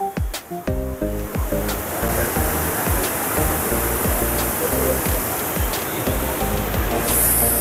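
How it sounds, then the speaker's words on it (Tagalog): Loud, continuous rushing river water in Takayama, Japan dominates the scene, a steady broadband roar with low rhythmic thumps running underneath. "Yan ang ilog dito."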